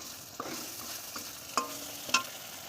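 Small cubes of paneer frying in a pan, a soft, quiet sizzle with a few sharp metallic clinks and scrapes from stirring.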